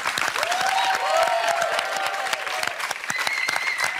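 A television studio audience applauds a row of guests being introduced, sustained dense clapping with a few faint voices mixed in, steady and fairly loud throughout.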